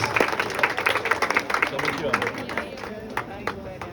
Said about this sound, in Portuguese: Salva de palmas aqui para os nossos vereadores.